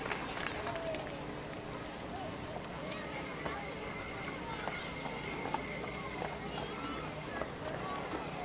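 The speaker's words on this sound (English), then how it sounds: "we've got the Holiday Inn Express, a horse owned by Jeremy Monahan." Rhythmic clip-clop of horse hooves trotting over a hard surface in a holiday parade, amid crowd murmur and a public-address voice speaking throughout.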